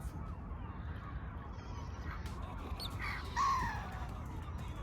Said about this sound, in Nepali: जता हेरे पनि चरै चरा छ तालभरि